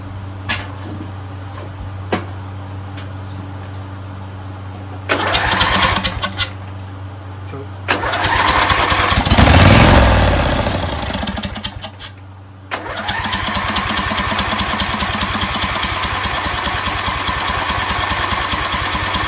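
A Craftsman LT1000 lawn tractor engine running on old gas cranks in short bursts, then catches and roars. It sputters and briefly dips before settling into a loud, steady run close by.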